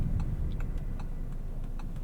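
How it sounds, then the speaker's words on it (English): A 2026 Audi Q3 S Line Quattro's turn signal ticks steadily in a regular rhythm, soft and close, over a low hum of the engine idling. "The turn signal is interesting."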